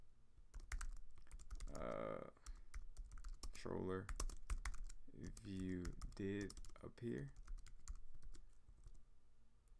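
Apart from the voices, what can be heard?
typing on a computer keyboard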